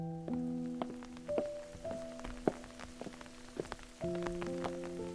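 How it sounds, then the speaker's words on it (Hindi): Heavy rain falling outside, heard as irregular drips and thuds on a surface with ringing tonal hits over a soft steady wash, fairly quiet and close, no voices. "बाहर तेज बारिश थी"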